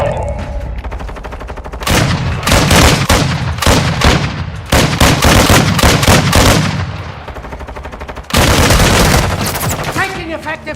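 Heavy automatic gunfire in a Warzone 2 battle royale match, loud sustained bursts and rapid volleys with short pauses between them, up close and dense throughout.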